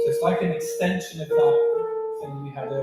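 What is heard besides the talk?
No everyday noises stand out.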